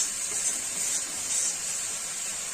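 Shol fish frying slowly in hot oil in a home kitchen, giving a steady, even sizzling hiss that stays close and fairly loud throughout with no voices.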